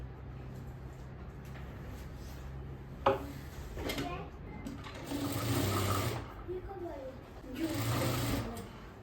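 Sewing machine running in bursts while stitching the lining of a blouse, its steady whir rising and falling over several seconds, with someone speaking at times.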